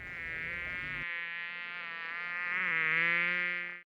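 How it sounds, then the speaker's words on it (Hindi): Steady insect buzzing like flies hovering near the ear or bees at a hive, loud and continuous with a sustained drone that rises slightly in pitch midway and cuts off abruptly at the end. "मक्खी के कान के पास मंडराने पर और मधुमक्खियों के छत्ते पर।"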